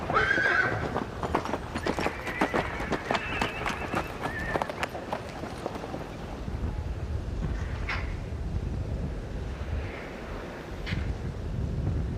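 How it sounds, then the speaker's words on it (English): Captured wild mustangs arriving at a reception pen: a rapid, irregular clatter of hooves close by, shrill neighing and whinnying near the start, and wind buffeting the microphone throughout, with a softer whinny or two later on. "The last of the captured horses arrive."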